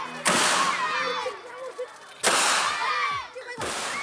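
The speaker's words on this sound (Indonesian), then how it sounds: "Untuk bisa menghasilkan dentuman yang keras, meriam bambu menggunakan karbit yang dimasukkan ke dalam bambu, kemudian diberi tambahan air" Bamboo cannons fired with carbide and water by children before breaking the fast: two loud, booming blasts about two seconds apart, each with a long ringing decay, then a third blast starting at the end.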